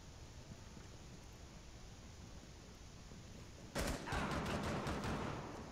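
Gunfire bursts out in Rainbow Six Siege on the Favela map, a shot from a window cutting through steady background noise, then a loud run of rapid shots lasting a couple of seconds.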